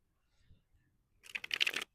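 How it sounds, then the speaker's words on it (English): A tarot card deck is shuffled, with a brief, close, crisp riffle of cards lasting about half a second after near silence and a few faint handling sounds. "Let's shuffle your deck"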